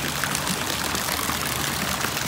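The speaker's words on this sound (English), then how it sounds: "I love the rock fountains that spill into the pool here." Water spilling steadily from rock fountains into a tropical swimming pool makes a constant, gentle splashing wash with no voices.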